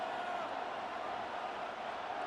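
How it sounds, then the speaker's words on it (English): Steady roar of a stadium crowd in a football video game, a dense, unbroken wash of cheering at moderate level with no distinct peaks. "This crowd doing all they can"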